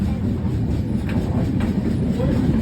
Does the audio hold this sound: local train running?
yes